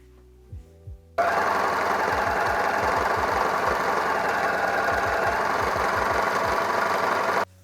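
An overlocker sewing machine finishing the fabric edges of skirt pieces, a couple of brief taps, then a loud steady mechanical whir with rapid stitching rhythm running for several seconds before stopping abruptly.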